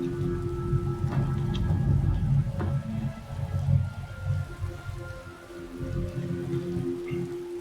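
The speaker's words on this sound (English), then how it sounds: "I'm not enjoying the rain." Rain falls steadily in Skyrim near Whiterun, a constant hiss with soft patter and a low rumbling bed, moderately loud and unbroken, with no voices over it.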